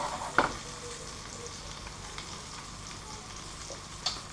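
Trout fillets fry gently in butter in a pan for truite meunière, a steady soft sizzle with a few sharp crackles and utensil taps.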